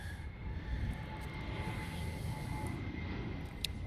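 A Hawaiian airliner taxis on an airport taxiway, giving a steady, moderate engine hum and rumble at a distance, with a faint high whine running through it.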